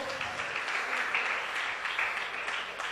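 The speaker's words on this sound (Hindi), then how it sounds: "जोरदार तालियां बजाएं आप लोग।" Steady, fairly faint applause fills a hall as an audience claps during a felicitation ceremony, a dense sustained patter with no clear voices on top.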